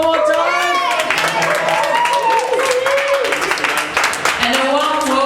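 An audience at a poetry slam event claps loudly and steadily for several seconds, close and continuous, with voices and cheering mixed into the applause.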